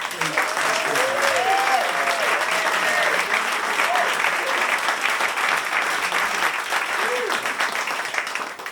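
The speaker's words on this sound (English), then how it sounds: "how about a round of applause for this?" An audience at a live jazz band show at a café claps in sustained, dense applause, with voices calling out faintly beneath it early on and the clapping easing slightly near the end.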